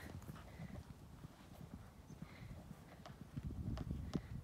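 Horse Minnie cantering on a cross-rail course, a rhythmic run of muffled hoofbeats on soft ground, fairly faint and steady, growing slightly stronger toward the end.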